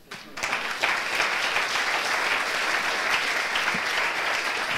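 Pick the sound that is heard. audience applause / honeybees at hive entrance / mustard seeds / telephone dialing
audience applause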